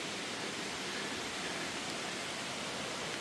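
A waterfall at Raven Cliff gives off a constant, even hiss of rushing water, soft and steady with no voices over it.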